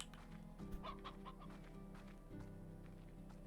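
Chickens in the Slime Rancher video game, hens and a rooster, give several quick clucks in a short burst over a steady game music bed, then fall quiet.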